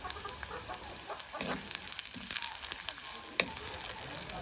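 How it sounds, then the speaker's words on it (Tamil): Green chillies fry with golden-browned onions in a pan for a soya meat curry, a faint, even sizzle with scattered light crackles and occasional soft stirring taps. "இந்த பருவத்தில் நாங்கள் இதாக போடுவோம் பச்சை மிளகாயை."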